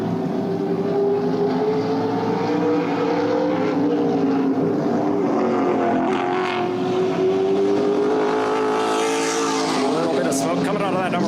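A race car on its qualifying lap at Kalamazoo Speedway, a short oval, roars continuously with a rising and falling engine note as it passes, loud and sustained throughout, with a crowd or announcer noise mixed in.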